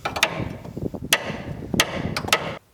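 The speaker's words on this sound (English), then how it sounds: "Give her a good thwacking." Sharp metallic hammer whacks strike a stuck part on a 1968 Dodge Coronet V8 project car, a few loud irregular blows spread across the moment with softer knocks between them.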